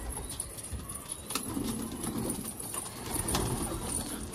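Newly acquired pigeons released from their coop give faint bursts of wing flapping against steady outdoor background noise, with soft rustling in between.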